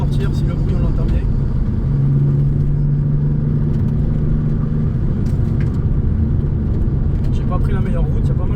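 An Alfa Romeo 147 GTA rolls along a gravel road, a steady low engine hum holding under continuous tire crunch on loose stones, while someone speaks over the noise.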